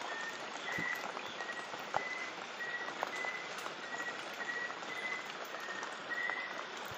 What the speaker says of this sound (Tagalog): so umuulan talaga. Kita nyo naman oh. Umuulan.